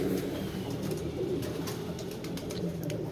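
Soft, low cooing of a pigeon held in hand after being caught, a steady murmuring hum close by with faint outdoor background.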